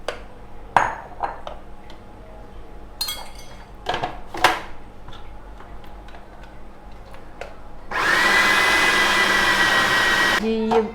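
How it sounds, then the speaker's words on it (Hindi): An electric food chopper whirs loudly for a few seconds as it mixes minced beef for kababs, coming after scattered kitchen clinks and taps. "चॉपर को चलाना है।"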